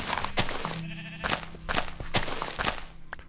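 Sheep bleating in Minecraft, several short nasal bleats close by, spaced irregularly over faint game background sound.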